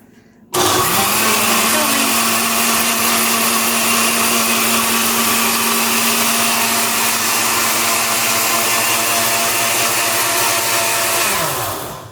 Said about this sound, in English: And then we gotta hit the smoothie button